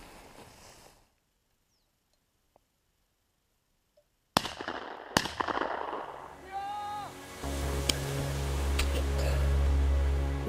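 Two sharp shotgun blasts a fraction of a second apart ring out during a grouse hunt in the forest, loud and close, followed by rustling and a low rumbling engine-like drone.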